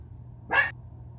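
A single sharp dog bark rings out clearly indoors over a quiet low background hum.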